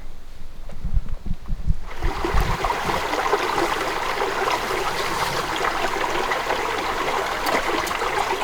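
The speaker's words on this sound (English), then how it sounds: "this stream goes down to the lake that we want to visit." Clean forest stream flowing down toward a lake, a steady close rush of water that swells into a fuller, brighter wash after a couple of seconds, alone without talk.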